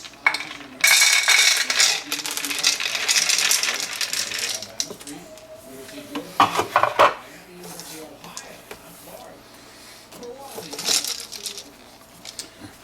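Dry pet food pours from an Aspen Le Bistro automatic portion-control pet feeder, rattling and clattering in bursts of kibble hitting a bowl, with someone talking between the pours.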